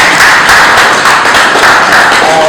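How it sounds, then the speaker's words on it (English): An audience at a university peace walk event claps their hands together in dense, loud, continuous applause for a couple of seconds, with no voices over it. "Please let's clap our hands"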